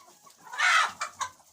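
A rooster gives a loud squawking cry followed by two short clucks as it chases another rooster near a henhouse on a snowy, rainy day.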